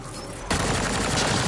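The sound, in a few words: gunfire in Mass Effect: Andromeda video game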